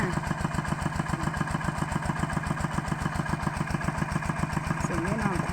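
A water-pump engine runs steadily in a dry, drought-stricken rural setting, its fast regular chugging pulse close and continuous throughout with no pauses.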